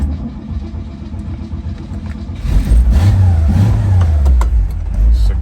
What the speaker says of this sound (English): We're going to start up our 62 Nova here